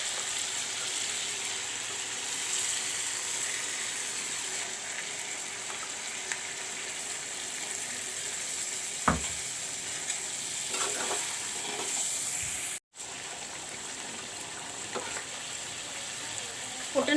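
Ginger garlic paste fries in a pan with a continuous bright sizzle, close and even, broken by a few stirring knocks and one brief cutout, with no voices.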